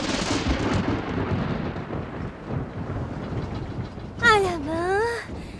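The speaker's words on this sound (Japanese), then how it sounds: "それに冬の雷なんてね。" Winter thunder rolls through a heavy blizzard, a steady broad rumble with wind and storm noise throughout, then a swelling burst near the end joined by a rising and falling high whine.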